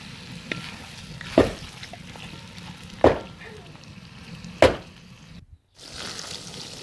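Meat for kuurdak fries in a pan with a steady low sizzle, broken by three sharp clattering stirs or scrapes against the pan and a brief pause near the end.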